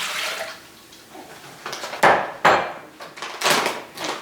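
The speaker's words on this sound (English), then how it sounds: "I'm going to go ahead and add my 2 cups of water first to the mixing bowl" Two cups of water pour into a Thermomix TM6 mixing bowl, giving a splashing, trickling sound with a few sharper knocks, close and moderately loud with no talk.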